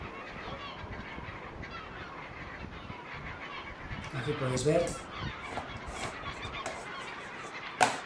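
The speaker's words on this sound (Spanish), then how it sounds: "veis ahí todo ese movimiento de gaviotas patiamarillas, que son las reinas de la isla" Yellow-legged gulls call from island cliffs where they nest, a cluster of honking cries swelling midway and a sharp call near the end, heard over wind with someone speaking Spanish.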